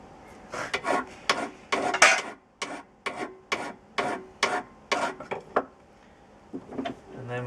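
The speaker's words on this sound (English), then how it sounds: "first thing we do before anything else is flatten off with a file" A hand file rasps across metal to flatten it while building a model wagon, about a dozen steady back-and-forth strokes, close and fairly loud, with brief pauses between passes.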